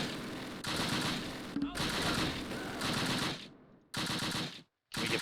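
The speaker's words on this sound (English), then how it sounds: "Infantry shooting." Infantry small-arms and machine-gun fire crackles in Close Combat, the WWII tactical game, in dense sustained bursts with brief cutoffs, fairly loud throughout.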